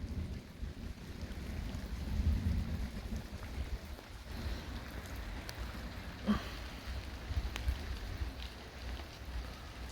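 Steady rain falls through a thunderstorm over a garden, with low rumbling thunder rolling underneath and a couple of sharper cracks; the wash of rain is constant and moderately loud, with no voices.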